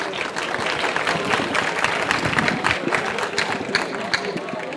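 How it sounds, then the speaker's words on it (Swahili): A crowd at an airport welcome for a basketball team breaks into loud, dense applause with scattered cheering, continuous and close throughout. "Tuwapigie makofi mengi sana."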